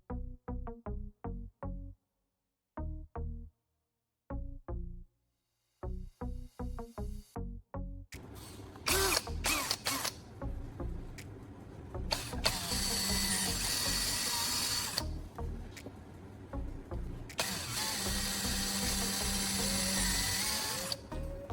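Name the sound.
drilling holes through PVC pipe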